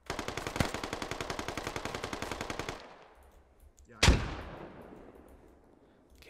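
Sustained automatic AK rifle fire in the tactical shooter Squad, a rapid, loud burst of evenly spaced shots lasting nearly three seconds, then a pause and one sharp, heavy report ringing out into a decaying echo.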